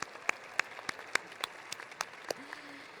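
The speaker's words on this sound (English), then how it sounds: "So can we give a round of applause for that?" Sparse, faint applause at a college honor society induction ceremony, made of distinct, evenly spaced claps in a quiet room, with a brief voice near the end.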